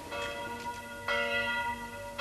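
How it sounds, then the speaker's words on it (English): A church-type bell is rung to summon the militia, two ringing strikes about a second apart with long shimmering overtones, clear and fairly close, no talk over it. "The bell was rung to summon the militia."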